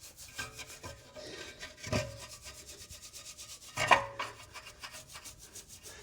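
A detailing brush scrubs inside a car wheel arch in short, uneven strokes, with soft bristly rubbing and a few sharper scraping bursts at close range, no voices.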